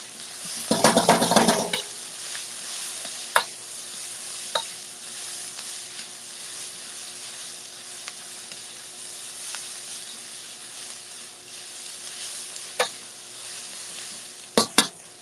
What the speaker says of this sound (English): I'm going to add in the garlic and the ginger